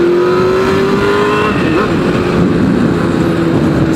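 A powerful Honda Hornet sport motorcycle engine revs loud and close, a steady high-pitched roar that climbs and dips slightly in pitch.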